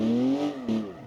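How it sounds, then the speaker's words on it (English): A car in a driving video game swings into a corner on the handbrake, its engine note bending downward in a loud, close sweep with a brief break before picking back up, no talking over it. "I tried to see if I can use my handbrake to go into the corner"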